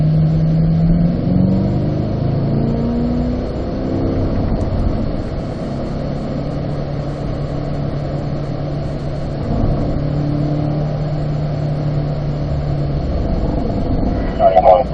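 A car engine on a race track at Spring Mountain drones steadily at close range, its pitch stepping between gears as it downshifts and pulls again, with a person talking over the constant rumble.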